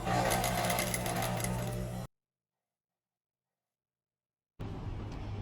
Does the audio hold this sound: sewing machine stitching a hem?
yes